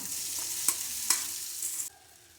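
Raw plantain stir-fried with curry leaves in hot oil gives a steady close sizzle with a few sharp spoon scrapes, then the frying noise drops off abruptly near the end.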